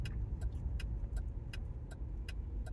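A Chevrolet Bolt electric car on the move, its steady low road and tire rumble continuous and fairly loud, with faint periodic high ticks over the top.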